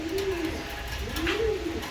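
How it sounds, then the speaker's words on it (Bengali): A pair of large pigeons coo softly nearby, two low, rolling coos in quick succession over a faint background hum. "দেখার মতো এক পেয়ার কবুতর"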